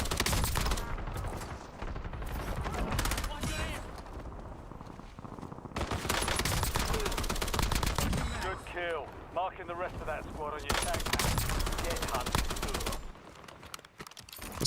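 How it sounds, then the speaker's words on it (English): Light machine gun fire in Call of Duty Warzone, sustained bursts of rapid automatic shots that run through most of the stretch, loud and dense, with someone talking over the shooting. "It's quite a nice LMG."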